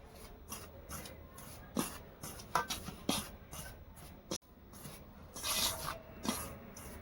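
Hand kneading flour with salt and sugar in a bowl for tandoori roti, soft close rubbing and gritty scraping in uneven bursts, fairly quiet, with no talking.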